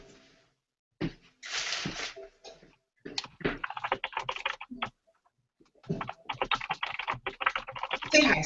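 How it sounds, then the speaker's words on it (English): Loud clacking of a computer keyboard being typed on at close range, coming in dense bursts of rapid keystrokes separated by short pauses. "my keyboard's very loud, so sorry."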